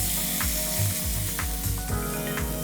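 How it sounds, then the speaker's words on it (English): Beef frying in hot oil in a pan gives a steady, close sizzle with a crackly hiss throughout, joined by a few soft stirring or scraping touches. "when I hear that sizzle, it feels like a sound of deliciousness calling me"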